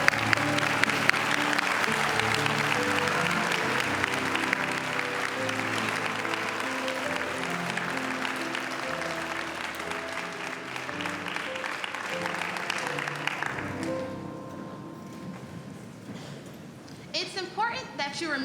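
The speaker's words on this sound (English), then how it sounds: "Please stand and let's give them a round of applause." An audience at an awards ceremony applauds at length, a full, sustained roar of clapping with music playing underneath, then it dies away as a voice begins speaking.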